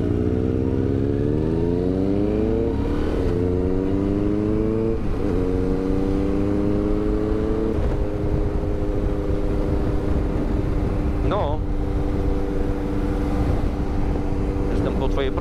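Motorcycle engines on a ride, a Honda CB650F and a Yamaha Tenere 700, drone loud and close, rising repeatedly in pitch through the gears with brief shift dips, over constant wind rush and some talk.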